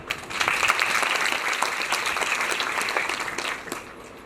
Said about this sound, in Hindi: अपने लिए आप तालियां बजाएं।